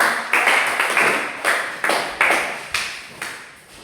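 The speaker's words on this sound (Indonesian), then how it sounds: "Oke, kita berikan aplaus kepada" Junior high school students receive a short round of clapping in a classroom, with sharp, closely spaced claps that swell and fade in several waves and ring out loud and near.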